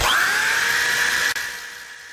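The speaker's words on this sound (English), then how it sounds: "So that was my 60 grit with the disc sander" Disc sander fitted with 60-grit paper sanding primer off a carved wood sign, a loud steady high whine held throughout with one brief dip near the end.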